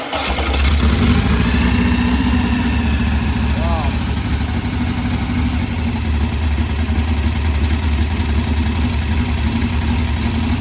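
A VW Type 1 1641cc engine with a Scat C35 cam and ported heads cranks and catches within the first second, then settles into a loud, steady, close-up idle that continues unbroken.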